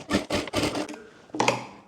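A sewing machine stitches the upper part of a straight palazzo box trouser in short, rapid mechanical bursts, three quick runs, a pause and then another run, close and moderately loud with no voices.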